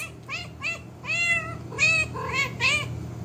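Several cat meows in quick succession, high and insistent, with a steady low hum underneath and no talking.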